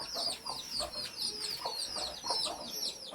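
Hens clucking and chattering steadily close by, a dense run of short overlapping calls with no voices among them.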